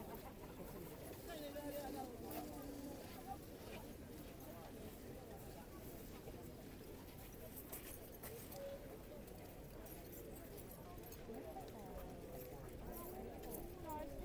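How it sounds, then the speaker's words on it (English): Trained cavalry horses at Horse Guards Parade, London, hooves clip-clopping faintly in the distance beneath steady outdoor crowd murmur and breeze, with occasional birds. "These horses are incredibly trained"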